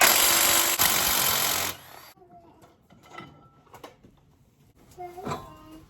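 A power tool, likely an impact driver, buzzes loudly for under two seconds while removing a brake caliper bracket on a Mazda 2, followed by quieter clinks and handling of metal parts.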